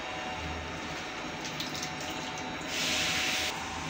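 Spinach leaves are gently washed by hand in water, a steady splashing and trickling that swells into a brief louder gush of running water near the end.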